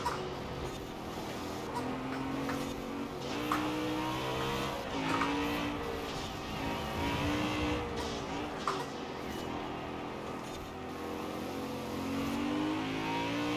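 A BMW M3 GTS racing engine in Forza Horizon 4 revs and accelerates steadily throughout, rising and falling through gear changes with no talk over it.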